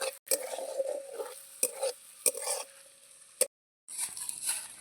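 A spatula scrapes and taps in a pan in short bursts as onions sauté in oil, with a light sizzle of frying and brief pauses between strokes.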